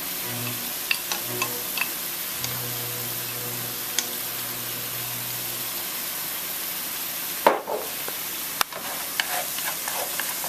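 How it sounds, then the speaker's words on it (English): Green onions frying in a pan for Vietnamese rice roll filling, a steady hissing sizzle with light stirring clicks, broken by a sharp knock and scrape near the end, with a faint background hum. "And then I'm going to now add the rest of the green onions"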